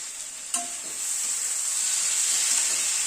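Spice paste with tomato sizzles steadily in a pan over a medium gas flame for a fish curry, one clink of the spoon near the start and then a continuous bright frying hiss while it is stirred. No voices.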